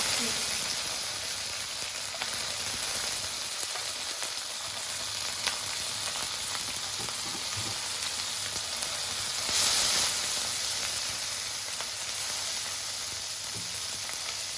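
Chopped mixed vegetables tipped into a pan with cumin and green chillies fry with a steady, dense sizzle and hiss, with stirring throughout and no talking.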